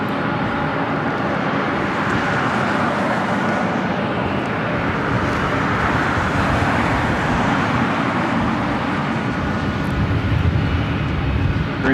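A heavy jet on slow final approach into LAX makes a steady, loud, broadband rumble mixed with distant traffic, holding fairly even throughout with no talking.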